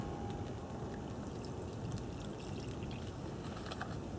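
Liquid is poured into a well in flour to make crumpet batter, giving a soft, steady, close pouring gurgle that runs unbroken with no talk over it.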